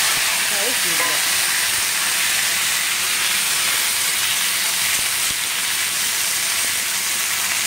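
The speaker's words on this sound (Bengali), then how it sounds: "চিমনির আওয়াজ হচ্ছে" A kitchen chimney exhaust hood runs with a steady, close broadband whoosh and hiss that holds unchanged for the whole stretch, with no talking.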